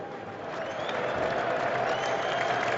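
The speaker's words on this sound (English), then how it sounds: "You can actually hear the crowd now." A cricket crowd at Lord's during an England versus Australia one-day international cheers and applauds steadily as a boundary brings up a fifty partnership, a dense, continuous roar of many distant voices and clapping.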